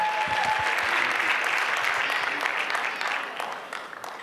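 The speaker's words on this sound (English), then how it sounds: "Round of applause, ladies and gentlemen." A dance competition crowd at a university bhangra event claps loudly in sustained applause that gradually fades toward the end, a brief voice heard near the start.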